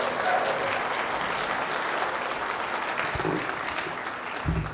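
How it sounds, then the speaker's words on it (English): Audience applause fills a room at a 14th annual benefit reception, a steady dense patter of many hands clapping throughout, close and loud, with a few louder thumps near the end. "A round of applause for everyone"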